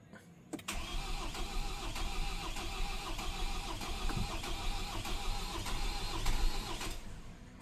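A 2019 Ford Ranger Raptor engine cranks and catches after a fresh battery replacement, then settles into a steady, fairly loud idle that runs close and continuous for several seconds.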